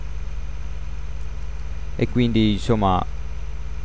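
A tractor engine straining in Farming Simulator 2013, a steady low drone heard throughout, with someone speaking briefly over it.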